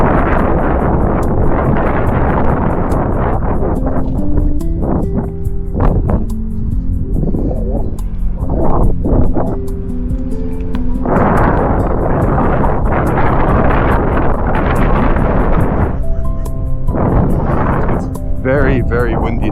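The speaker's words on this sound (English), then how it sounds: "Very, very windy today." Strong wind gusts roar across the microphone while riding an Inmotion V1 electric unicycle outdoors, a loud, continuous buffeting rumble that rises and falls in waves, with a person talking intermittently beneath it.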